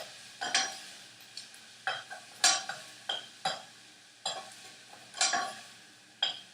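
Onions being sautéed in a pan for frijoles, with a spoon scraping and stirring in repeated bursts of clatter and soft sizzle, close and moderately loud, no voices.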